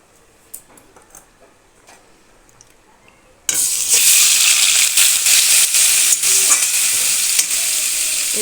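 Prawns hit leftover oil from frying potato and pointed gourd: a quiet stretch, then a sudden loud, steady sizzle that stays close and constant, with faint stirring knocks and no voices.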